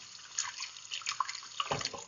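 Running water splashing as laphing starch dough is rinsed and washed by hand, with uneven sloshes and trickles close by, fairly quiet and without talk.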